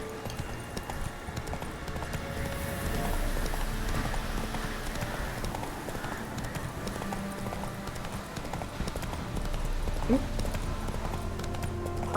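Horse hooves gallop steadily in The Witcher 3, a continuous close clip-clop rhythm over ambient game sound, with no speech heard.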